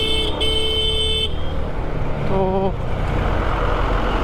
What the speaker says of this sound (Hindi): भीमताल में काफ़ी ज़्यादा देखिए ट्रैफिक लगा पड़ा हुआ है